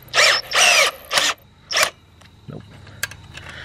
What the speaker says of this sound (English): We're gonna see if we can get it tighter with the socket set instead of the screwdriver.